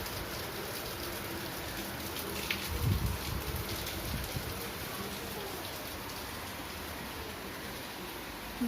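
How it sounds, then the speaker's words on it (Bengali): Heavy afternoon rain falls steadily with an even, hissing patter, heard quietly from a short distance, with a few slightly louder drops and no talk over it. "থেকে থেকে জোরসে ভালো জোরসে বৃষ্টি হচ্ছে"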